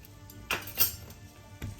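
Liver is stirred with a spoonful of water in a pan, making a few quiet metallic scrapes and clinks spaced apart over a faint background.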